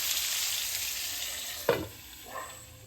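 Brinjal (eggplant) slices frying in hot oil in a pan, a steady close hiss of sizzling with a sharp spatter near the middle and a softer crackle after, no voices.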